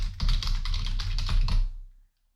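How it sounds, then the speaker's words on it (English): A membrane computer keyboard being typed on close to a mic, producing a quick burst of soft, muffled key presses in an even rhythm for about two seconds before it stops into silence. "Now I'm typing something."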